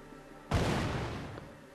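A single loud shotgun blast in Worms 3D, a sudden booming report that decays into a rumbling tail.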